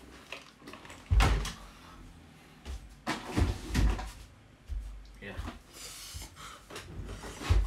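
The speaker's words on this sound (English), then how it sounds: "let me just close the door" An indoor door being closed, with a thud and wooden knocks and rubbing near the mic, followed by further shuffling and handling noises.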